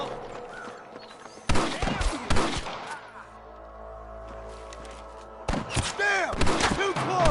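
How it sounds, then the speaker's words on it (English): Bursts of rapid gunfire in the video game Red Dead Redemption, with sharp cracks and echoing reports, loud and close, separated by a quieter stretch of low rumble. "I can hear more gunshots"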